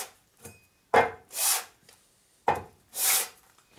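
Sandpaper of 120 grit rubbed by hand across the gasket face of a Harley-Davidson Evo motorcycle cylinder head, giving two close, steady pairs of rasping strokes with brief pauses between.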